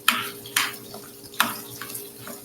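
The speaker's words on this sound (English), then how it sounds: "That sound good? Sizzling away." Italian sausage sizzles and browns in a pan while a spoon stirs and breaks it up, with a few distinct scraping strokes over a steady frying hiss and a faint hum.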